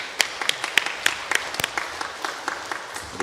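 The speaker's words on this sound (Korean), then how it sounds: "하나님께 영광의 박수 올려드리겠습니다" A church congregation gives a burst of scattered applause during a Sunday service, the claps uneven and fairly close, with no talking over them.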